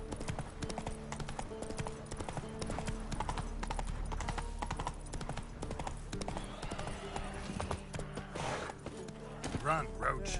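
Geralt's horse Roach gallops in The Witcher 3, with rapid, steady clip-clop hoofbeats sounding close throughout. A voice speaks faintly underneath, and a brief whinny-like sound comes near the end.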